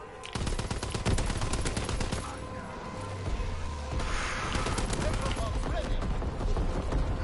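Rapid gunfire from Call of Duty: WWII on PS4, single and automatic shots cracking in dense, repeated bursts across the whole stretch, loud and close with game noise underneath.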